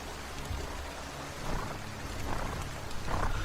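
Steady rain hisses on a surface with a low rumble underneath, continuous and moderately loud with no voices, used as a sound effect on a ghost story record.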